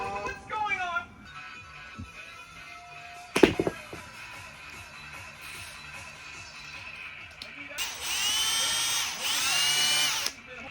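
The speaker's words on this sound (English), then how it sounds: "Squirt some oil in and spin it on drill." A power drill whirs up to speed and spins a Sierra RS Cosworth brake master cylinder steadily for a few seconds near the end, after quieter handling noises and a sharp clatter.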